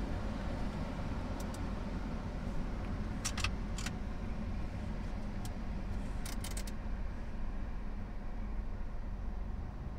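Steady hiss of air conditioning blowing from the vents of a Smart ForFour car, a constant even rush of air with a few faint light clicks and jingles over it.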